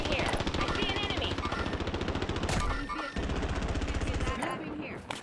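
Automatic gunfire in the Warzone battle royale game, with rapid close bursts of shots firing almost continuously, one brief break midway, and faint game voice callouts underneath.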